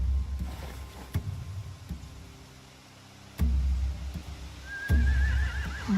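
Horses in the video game The Walking Dead Final Season, with a few snorts and low horse noises and a faint whinny near the end over a quiet ambient backdrop and occasional thuds.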